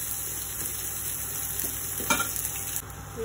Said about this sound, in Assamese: শুকান জলকীয়া দিলোঁ, অলপমান জিৰা দিলোঁ তেলত আৰু অকণমান পিঁয়াজ দিলোঁ।